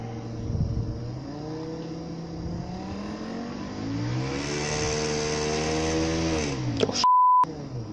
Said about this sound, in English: I nearly created my own jet engine. We're gonna turn it on.